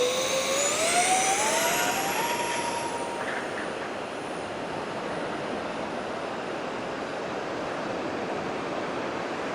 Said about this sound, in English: This is the Globemaster, the C-17 from X-Flight. Beautiful flying aircraft.